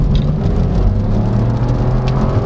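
A 2022 Chevrolet Trailblazer Premier accelerating, a steady close-up engine drone and whir with tire and road rumble, unbroken for a couple of seconds.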